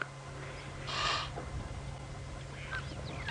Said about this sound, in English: They are shell ducks, but they're called Egyptian goose.